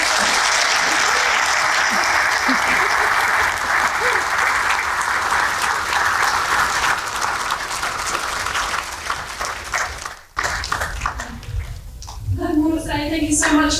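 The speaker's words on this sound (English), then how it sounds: "give Katie a massive round of applause" Sustained, dense applause from a lecture audience after an astronomy talk on the life and death of stars, steady for about ten seconds, then thinning out as a voice begins speaking.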